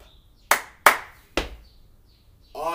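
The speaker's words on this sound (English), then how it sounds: "can I get 2 claps and a stomp?" Sharp percussive hits land in an uneven pattern during a play-at-home movement game: three separate smacks, loud and close in an otherwise quiet room, followed by a brief burst of other sound at the end.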